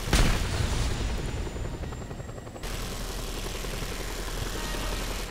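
A helicopter in Just Cause 2 roars steadily and loudly throughout, with a sharp boom-like burst at the start and a dense, continuous rotor-and-engine drone beneath; no one talks.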